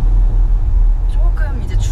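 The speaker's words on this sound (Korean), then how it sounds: "2열에 오니까 오히려 하체에서 올라오는 소음이 좀 들려요." Low, steady road noise rumbles up from the underbody into the rear seat of a Genesis EQ900L limousine while driving, a constant drone beneath people talking.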